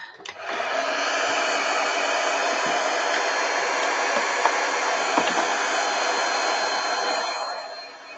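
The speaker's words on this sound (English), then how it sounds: "Might want to just take a heat tool and clean that up." A handheld heat tool blows hot air over a mixed-media craft gift package, a loud, steady whooshing drone that switches on, runs evenly for about seven seconds with a few faint clicks, then winds down.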